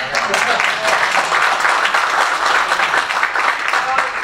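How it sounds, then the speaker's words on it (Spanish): A second round of audience applause at a talk, this time for a woman named Carola: loud, dense clapping holding steady for a few seconds, with faint voices underneath. "Y otro aplauso para Carola"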